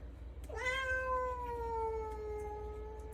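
A single drawn-out cat meow rises sharply and then holds a long, steady tone, close and clear, over a low background hum with no talking.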